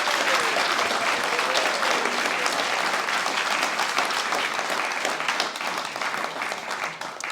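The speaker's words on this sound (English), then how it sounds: "one more round of applause for our entire class of 989." A large audience at a Guide Dogs for the Blind graduation ceremony for class CA989 gives sustained, dense applause, steady and full at first, then gradually thinning and fading toward the end.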